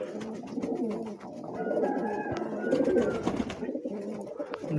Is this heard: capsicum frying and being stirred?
no